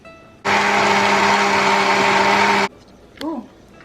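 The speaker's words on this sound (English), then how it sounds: "And we're going to bring it to the blender." A kitchen blender whirs through tamale sauce in one loud, steady burst of about two seconds, stopping abruptly before a brief voice follows.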